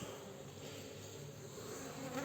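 Honey bees buzz in a dense, continuous drone, close and steady throughout, with no voices; the bees are agitated.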